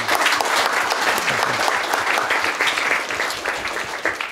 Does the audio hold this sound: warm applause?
yes